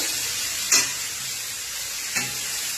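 Fenugreek leaves and green chillies sautéing in a pan with mustard seeds and curry leaves, a soft steady sizzle broken by two brief stirring clicks of a spatula.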